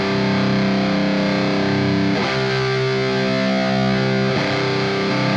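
A high-gain electric guitar roars through a Friedman BE Mini amp head, with loud, thick distorted chords sustained close up and two quick chord changes, with no voice over it.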